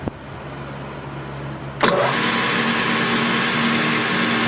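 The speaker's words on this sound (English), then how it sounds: "there's a zzz, that buzzing noise. That is that live center that I'm using." A live center on a small home-built lathe gives off a steady mechanical buzz with a sustained hum, which swells into a fuller, brighter whir about halfway through and then keeps running evenly.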